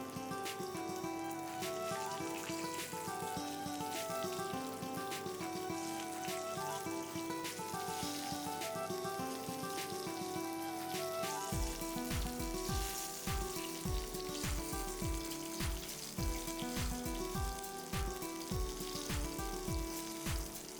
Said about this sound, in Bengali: এবার মাছগুলোকে উল্টে দিয়ে খুব ভালো মতন ভেজে নেওয়া হচ্ছে।